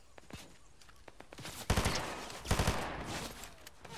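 Bursts of Fortnite gunfire with heavy recoil, scattered single shots first and then two loud rapid volleys, close and punchy against a quieter game background.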